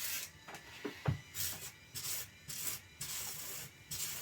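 Philips sneaker cleaning brush scrubbing a shoe: soft rubbing and sanding strokes in irregular bursts, with a low motor hum underneath, fairly quiet and close.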